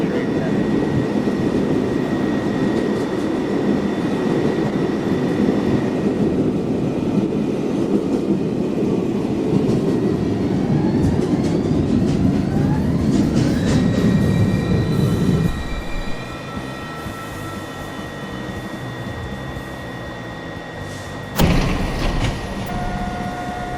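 An NYC Subway R62A 1 train rolling along the line, a steady loud rumble with rising whine and clatter. It slows and quiets partway through, and electronic tones and a short burst of noise follow near the end.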